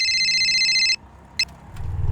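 A shop telephone gives one sustained electronic ring that stops abruptly, followed by a brief chirp, a faint click and low rustling.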